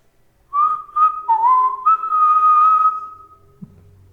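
A clear human whistle, close and fairly loud, holding a few short notes then one long sustained tone before silence.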